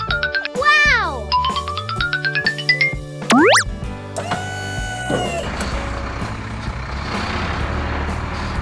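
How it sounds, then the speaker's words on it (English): A toy crane truck plays a string of electronic tones and beeps: rapid stepped melodic notes, a swooping siren-like sweep, then a rising rattle that fades into a steady engine-like drone, loud and close, with a voice briefly mixed in. "Crane truck."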